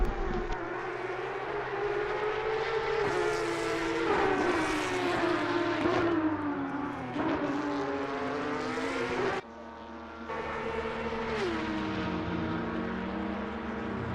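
Porsche Cup GT3 race car in a racing video game at Imola, its engine droning loud and continuous, pitch climbing and dropping through gear changes with a brief dip partway through.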